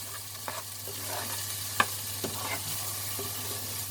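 Frozen peas and sweet corn, partly thawed, sizzle and fry in a pan with garlic and onion, a steady moderate sizzle broken by a few scrapes and clinks of stirring.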